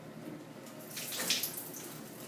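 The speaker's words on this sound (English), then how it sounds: "let's turn the water off" Quiet shower water from a low-pressure shower head running softly, then a brief rise in hissing flow as the tap is turned off, close and alone without talk.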